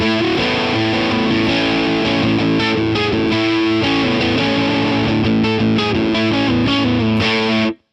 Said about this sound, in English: let's scroll down a bit more to the Alpaca Rouge. This is what it sounds like.